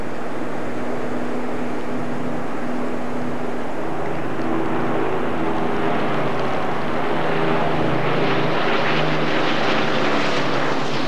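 Spitfire and Hurricane propeller fighters make a flypast at a Battle of Britain anniversary event, a steady engine drone that builds and grows louder toward the end with no talk over it.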